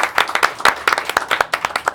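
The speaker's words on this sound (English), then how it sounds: "Let's have a round of applause for Denise," A small audience at an evening music event gives a short round of applause, a few nearby pairs of hands clapping in quick, distinct, uneven strikes.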